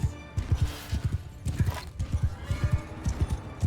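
Cavalry horses in Mount & Blade 2: Bannerlord move out together, hooves drumming in a dense, uneven clatter with an occasional whinny over the din of the battlefield.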